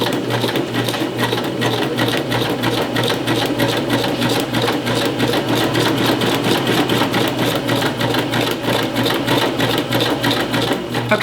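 A sewing machine runs steadily and fast along a straight seam, its needle chattering in a dense, even rhythm, loud and close, with no pauses and no voices.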